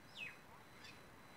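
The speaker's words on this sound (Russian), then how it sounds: "птички поют." A bird gives a quick, faint descending chirp along a quiet green promenade on the Abu Dhabi Corniche, followed by a softer second call amid light outdoor ambience.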